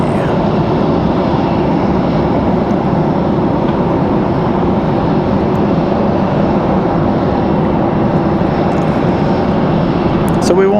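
An airplane arriving at Raleigh-Durham International Airport on a cloudy evening, giving a continuous broad roar of jet engine noise that holds steady and loud throughout.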